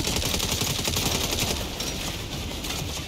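Turret machine-gun fire in the Saints Row video game rattles continuously at a rapid, dense rate, loud and sustained throughout, with no talk over it.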